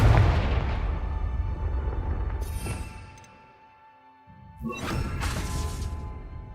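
A Confringo fire spell goes off in Hogwarts Legacy: a loud fiery burst with a crackling tail, a second blast bursting out about two seconds later, then a short lull before a bright, hissing flare.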